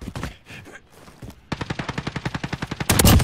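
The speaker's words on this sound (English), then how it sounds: "Dude, he's shooting at me" Automatic gunfire in the Modern Warfare video game, opening with scattered sounds before a steady rapid burst of close, loud shots and a denser, heavier volley at the end.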